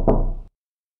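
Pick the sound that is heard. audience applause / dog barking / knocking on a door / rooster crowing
knocking on a door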